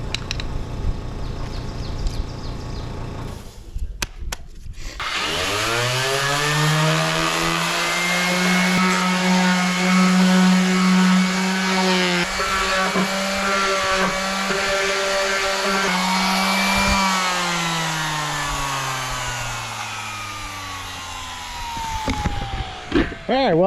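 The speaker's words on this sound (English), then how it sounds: "Let's do some more sanding on this one." A loud power sander whines steadily on an old boat trailer for most of the clip, its pitch holding fairly constant, starting abruptly after a few seconds of quieter noise.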